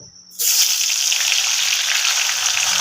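Tomato dropped into hot spices frying in a pan for a chhana dalna curry, a sudden loud hiss that erupts after a brief quiet moment and holds steady and close.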